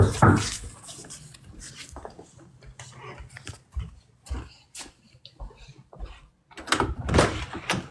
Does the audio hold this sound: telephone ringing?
no